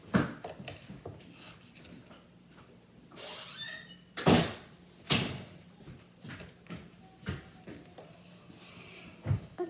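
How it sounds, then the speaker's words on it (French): A door closing indoors, with several sharp knocks and thuds of wood and latch, a squeak, and handling noise spread over about ten seconds. "je vais aller fermer la porte et après je vais revenir"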